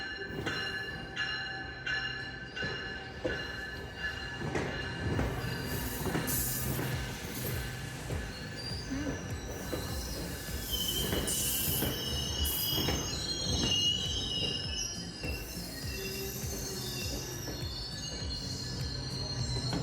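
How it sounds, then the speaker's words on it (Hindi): A double-decker passenger train pulls into a station platform in Canada, its wheels squealing in long metallic whines over steady rolling clatter and rumble, fairly close and continuous, with no talking. "और ये आ गई हमारी ट्रेन"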